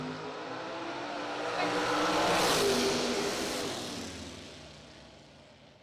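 Drag racing cars, including a 1980 Corvette running a 534-inch Chevy motor, roar down the strip in one loud swelling pass that peaks midway and fades as they pull away.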